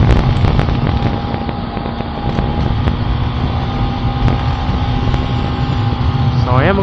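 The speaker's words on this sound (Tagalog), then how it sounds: "Lakas ng hangin, grabe." Strong wind buffets the microphone with a continuous loud rushing roar outdoors by the water, with a motor droning faintly underneath.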